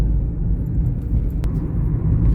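A car drives along a city avenue, a steady low road rumble and engine drone heard from inside, with a single brief click partway through.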